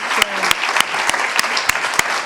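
An audience at a panel discussion on democracy and media applauds the debaters with continuous, full clapping. Sharp, evenly spaced claps from one nearby pair of hands stand out above the crowd.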